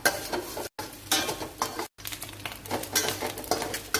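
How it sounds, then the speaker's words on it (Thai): Garlic stir-fried in a pan while making Thai chai po (preserved radish) with egg: a spatula scrapes and stirs in rapid bursts over a soft sizzle, close and fairly loud, with two brief gaps of silence. "คราวนี้เราใส่กระเทียมนะคะ ผัด"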